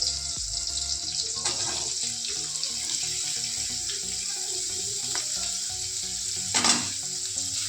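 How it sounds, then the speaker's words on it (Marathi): Chopped green chillies and onion sauté in a pan for dry okra fry, a close, steady sizzle with occasional stirring scrapes and one louder burst of spattering near the end. "कांदा पण चांगला परतून घेऊया, सोनेरी कलर येईपर्यंत"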